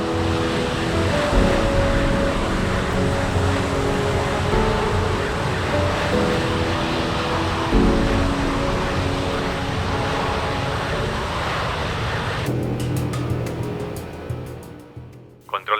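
An Air India airliner climbs out a minute after takeoff over the Arabian Sea, a steady broadband roar of jet engines and cabin rumble that holds loud and constant before thinning near the end.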